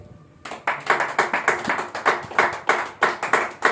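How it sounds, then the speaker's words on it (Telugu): A church congregation claps hands in a steady rhythmic beat, sharp close claps repeating roughly every third of a second after a quiet start, with no talking over them. "చప్పట్లు కొట్టండి"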